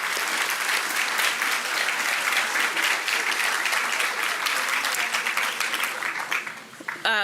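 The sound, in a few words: applause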